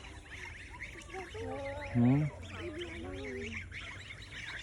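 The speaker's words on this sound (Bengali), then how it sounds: "ওই হাঁসগুলা যাক রাস্তা দিয়ে।" Ducks on a road give a short run of quacks, one loud call standing out midway, over quiet outdoor background with a brief murmured voice.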